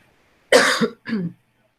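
Two close, harsh coughs in quick succession, the first longer and louder, then quiet.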